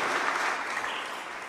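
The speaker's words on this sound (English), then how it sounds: "Let's give them a round of applause." A church congregation bursts into a round of applause at a Feast of the Holy Family service, many hands clapping in a full, even roar that fades a little as it goes.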